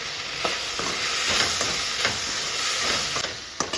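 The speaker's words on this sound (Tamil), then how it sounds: "இப்போ தக்காளி நல்லா வதக்கிட்டோம்." Tomatoes sautéing in a pan for a potato kurma, a steady close sizzle with a light spoon stirring and scraping at a few points, no voices.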